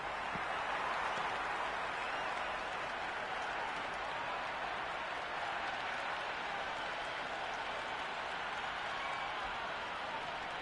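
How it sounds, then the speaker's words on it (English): A large cricket stadium crowd in the video game Cricket 26 cheers and applauds at a T20 World Cup match between England and New Zealand, a steady, dense roar that holds at even loudness throughout. "It's almost palpable excitement emanating from this crowd at the moment."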